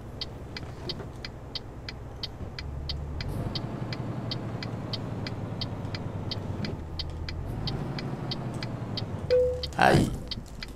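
Simulated truck engine from Euro Truck Simulator 2 drones steadily as the rig drives, with a regular ticking pulse throughout and a brief louder burst near the end.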